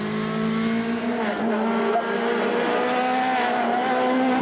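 Robert Kubica's 1.6-litre turbo rally car on a special stage of the Canary Islands rally gives a loud, close engine note that rises and falls through gear changes, with a brief squeal of tyres.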